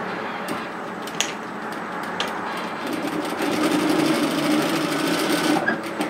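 A sewing machine topstitches the seam of a triangle wrap scarf, running close and steady with a fast mechanical ticking that grows slightly louder partway through.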